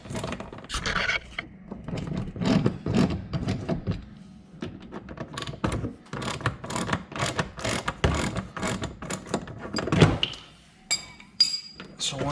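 Bolts being loosened by hand tool on a 2010 Camaro during an LED DRL install, with repeated metallic clinks, scrapes and ratcheting close by, scattered through the clip under someone talking.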